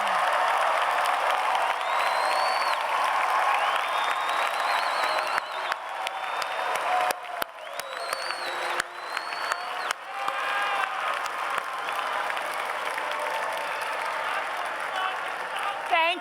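Sustained applause from a large crowd of graduates at a UCLA college commencement ceremony in 2019, clapping for parents, partners, friends and family, steady and dense throughout with scattered whoops and cheers rising over it.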